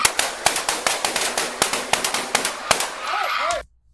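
Rapid, uneven volley of sharp gunshots fired by a suspect at police, a dozen or more cracks in quick succession, loud and close, ending abruptly in silence after a brief voice.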